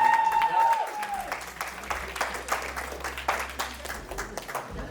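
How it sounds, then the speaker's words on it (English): A crowd at a fundraiser race event gives a final round of applause, with scattered distinct claps growing over a steady hum, a tone fading out early and voices faintly underneath. "So one more last round of applause."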